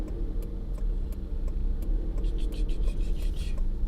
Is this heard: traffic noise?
yes